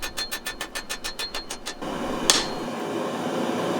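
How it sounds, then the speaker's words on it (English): Rapid run of about a dozen metallic hammer blows ringing on a Damascus ladder-pattern billet over an anvil, evenly spaced and close, then giving way to a steady roar with one sharp clank. "I'm just going to go over the anvil with this and hit it with a hammer and just push them 2 layers together"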